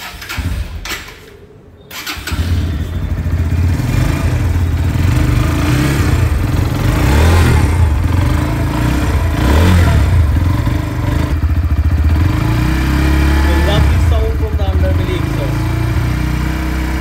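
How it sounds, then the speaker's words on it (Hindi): A 2023 Bajaj Pulsar NS160 motorcycle, up on its double stand, starts after a brief pause. It then runs loud and close with repeated revving and a steady clattering engine note. Someone talks over it. "तो अभी डबल स्टैंड करते हैं, फिर बाइक को स्टार्ट करते हैं।"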